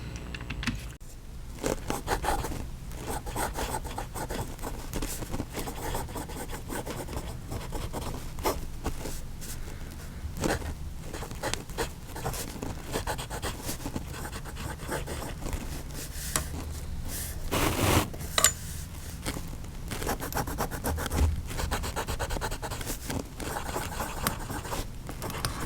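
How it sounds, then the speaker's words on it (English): A Japanese Pilot or Platinum pocket fountain pen nib scratches steadily across paper, close and dry, with irregular strokes, pauses and small taps continuing throughout. "Now I think we need to put nib to paper."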